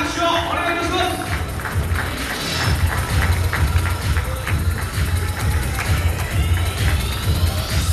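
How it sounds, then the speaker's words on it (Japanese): An audience at a men's physique contest applauds and cheers in a steady, loud roar, with a booming low rumble underneath and voices mixed through the crowd noise. "皆さん大きな拍手をお願いいたします"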